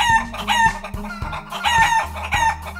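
Hens and a rooster in a farmyard corral cluck repeatedly at close range, with crowing mixed into the busy flock noise.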